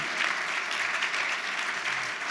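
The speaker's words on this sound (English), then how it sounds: "let's give them a round of applause" Steady, dense applause from an audience closing a conference panel on AI and robotics, an even wash of many hands clapping throughout.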